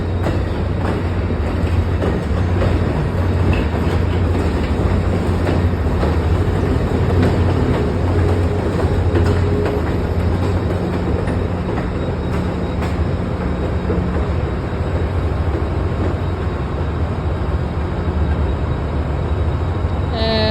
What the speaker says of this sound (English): this Acela Express train is on a roll.